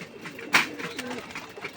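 A homing pigeon, a racing bird just come back home, gives a single soft coo close by over a quiet background.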